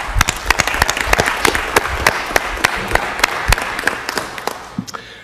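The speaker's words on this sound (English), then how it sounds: "let's applaud." A city council meeting audience applauds, a dense run of many hands clapping at moderate distance, steady for about five seconds before tapering off.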